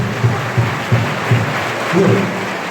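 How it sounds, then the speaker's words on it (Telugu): A student audience at a gurukul school campus in Nagarjuna Sagar applauds loudly for a student, a steady wash of clapping with a few stronger rhythmic beats. "ఒకసారి సాయి వస్తే గట్టి క్లాప్స్ చూడండి సార్"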